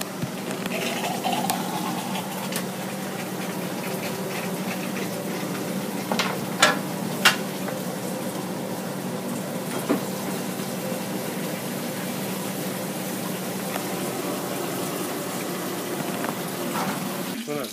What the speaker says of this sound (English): wort chiller going on. There she goes.